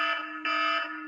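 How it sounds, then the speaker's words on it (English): A steady electronic buzzer alarm sounds when a button is pressed to close a podcast, a loud continuous tone with a brief dip and restart midway. "push that button one last time so we can hear the alarm"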